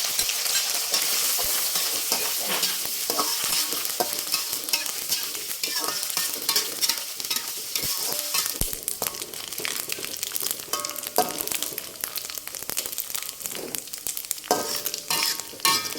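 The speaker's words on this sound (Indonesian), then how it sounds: "Lanjut goreng terinya." Oil sizzles and crackles steadily as anchovies fry, with occasional scraping and stirring clatter throughout.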